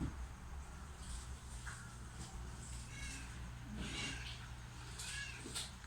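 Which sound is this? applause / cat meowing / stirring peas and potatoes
cat meowing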